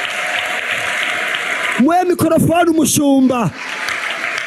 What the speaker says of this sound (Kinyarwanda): Mwongere Imana amashyi menshi.